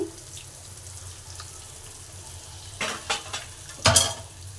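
Five beaten eggs for egg bhurji sizzle softly in a pan, then a spoon scrapes and stirs them in a few quick strokes near the end.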